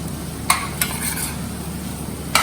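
A spoon stirring corn flour into a sauce for pasta in a metal pot, steady close scraping with a few sharp clinks against the rim, no one speaking.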